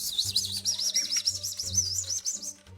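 Pet sparrows chirping in a cage, a busy, continuous twittering of high rapid calls close by, over a low steady hum.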